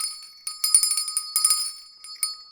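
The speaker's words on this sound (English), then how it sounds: "I rang the bell. Enjoy that bell ringing." A physical hand bell rung in a workshop, bright metallic rings struck in several quick bursts with ringing overtones, close and clear with no other sound.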